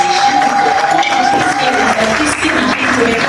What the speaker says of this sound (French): Est-ce qu'on peut applaudir encore Bellevue Candy